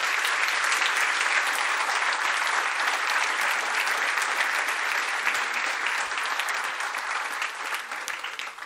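Sustained applause from a seated audience at a talk by a whistleblower, dense even clapping held steady for several seconds before thinning slightly toward the end.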